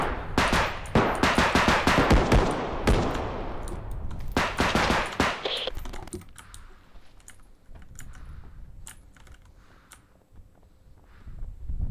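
Rapid gunfire bursts in the Bodycam video game, loud and close, with dense automatic volleys for several seconds, then sparser scattered shots that trail off into quieter background noise.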